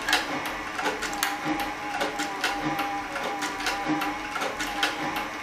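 Cowboy CB3200 leather sewing machine, a saddle and harness stitcher, works through a leather belt with a steady rapid rhythmic thumping of the needle, close and fairly loud throughout.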